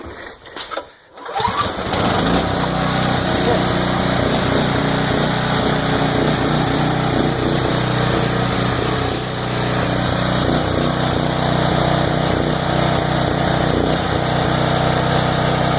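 A Briggs and Stratton Storm Responder generator engine, fitted with a tri-fuel kit, cranks briefly and starts, then runs loud and steady at close range for the rest of the span with a constant drone and no talking.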